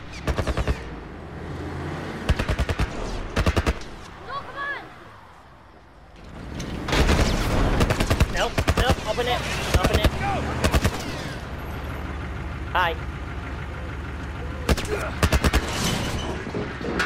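Enemy gunfire in The Last of Us Remastered, on the bridge: loud clusters of rapid shots that break out in bursts, pause, then return as repeated volleys over a steady background rumble.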